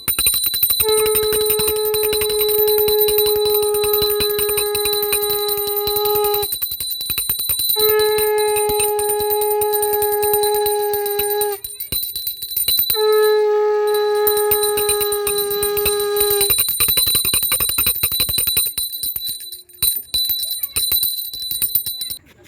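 A hand bell rings in three long sustained bursts with short gaps between them, bright and loud, ringing out over a constant background hum, during a Karva Chauth sunrise offering.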